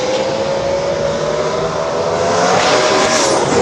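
A race car with a 5.4-liter engine, a Mustang, roars at speed through a sustained, loud, steady engine drone with a faint edge of tire noise, and no voices are heard.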